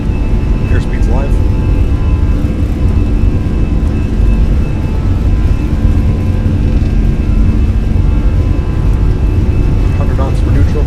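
Airbus A320 engines roar at takeoff thrust in a flight simulator, a loud steady whine and rumble with a constant high tone, sustained throughout as a voice speaks over it.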